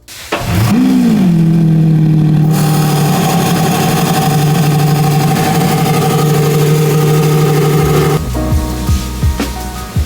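A Lamborghini engine blips sharply, then settles into a loud, steady, close drone for several seconds before dropping into a rougher, pulsing idle near the end.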